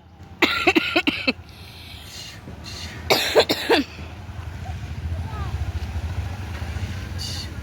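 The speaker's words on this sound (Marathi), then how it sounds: "काय आधी खोकला आहे बाबा हा" A person coughs in two quick bursts of several harsh coughs each, close and loud, over a steady low engine rumble from a vehicle.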